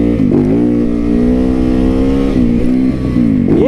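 A motorcycle engine revs for a wheelie, holding a loud, close drone with a steady pitch, then dipping briefly and climbing sharply at the end.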